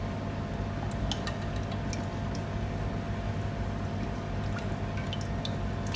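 Hot cooking oil pours into an uncovered pan for homemade Nando's-style chicken, giving a steady close sizzling, crackling hiss with scattered small pops and drip-like ticks throughout, no voices.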